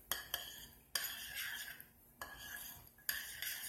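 Beaten eggs being worked into a crab cake mixture in a bowl, a utensil scraping and clinking against the bowl in several separate strokes with short pauses between, close and fairly quiet.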